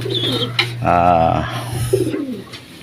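A crossbred pet pigeon coos up close, a few low throaty calls with a short gap between them, and someone talks briefly in the background.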